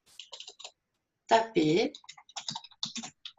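Keys on a computer keyboard are struck in short, irregular bursts of sharp clicks, including presses of the Enter key, with a brief stretch of someone talking in the middle.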